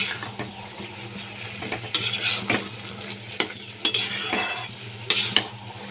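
Coriander powder being stirred into a hilsa and ash gourd curry in a pan, a spoon scraping and tapping the pan in an irregular rhythm over a steady sizzle, close and clear with no talking.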